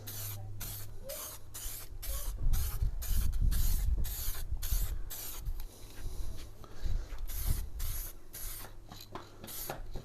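Spray gun laying a light dust coat of paint on a car, repeated close hissing bursts in an even rhythm with short gaps between passes, no talking.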